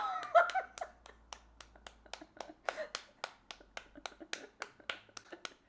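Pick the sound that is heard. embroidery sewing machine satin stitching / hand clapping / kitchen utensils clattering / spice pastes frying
hand clapping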